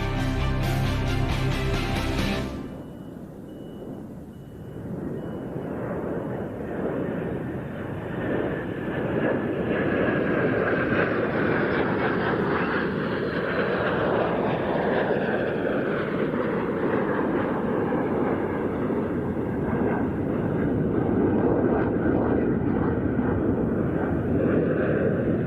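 A Polish fast jet display aircraft arrives at the Royal International Air Tattoo, a sustained, loud jet roar with sweeping pitch shifts as it passes, following a brief burst of sharp noise at the start.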